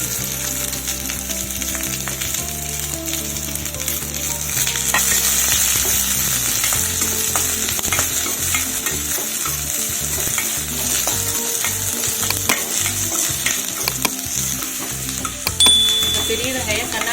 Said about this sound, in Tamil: ரெண்டு பெரிய வெங்காயம் அரிஞ்சு வச்சுதான் போட்டு வணக்கிட்டீங்க